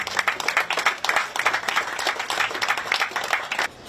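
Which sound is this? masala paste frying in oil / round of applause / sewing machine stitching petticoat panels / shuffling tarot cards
round of applause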